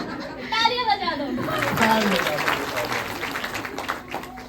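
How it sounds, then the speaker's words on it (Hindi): Audience applause at a New Year Nirankari satsang gathering, a moderate, steady patter of clapping with children's voices and chatter mixed in throughout. "तालियां बजा दो।"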